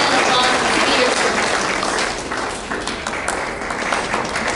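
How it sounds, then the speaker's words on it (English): An audience at a school honor society pin ceremony gives a dense, steady round of applause that is loud at first and then eases slightly, with many hands clapping together. "Please join me in thanking them with a round of applause"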